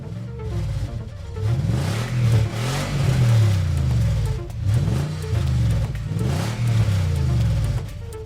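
A car engine in an AI racing video game revs up and down repeatedly, rising and falling in pitch in steady waves, loud and close, with no voices.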